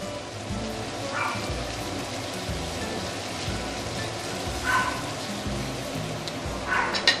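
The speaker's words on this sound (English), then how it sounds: "So after adding the salt and sugar, I'm going to continue saute this for a couple of minutes more." Food is sautéed in a pan after salt and sugar are added, giving a soft continuous sizzle with faint stirring scrapes, steady and moderately quiet, with no one talking.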